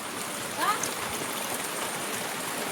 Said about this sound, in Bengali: বৃষ্টি থামছে না এখন, এই রাত্রে অনর্গল সারা দিন বন্ধ হয়নি